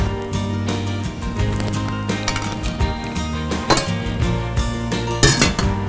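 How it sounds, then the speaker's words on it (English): A spoon stirs sweet rice with condensed milk in a pot, scraping and clinking against the metal repeatedly in an uneven rhythm, close and fairly loud with no talking. "we're going to now keep stirring this mixture"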